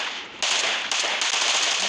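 Automatic gunfire in the mobile battle-royale game PUBG sounds as loud, continuous rapid bursts of crackling shots, with a brief dip before the firing resumes hard and close.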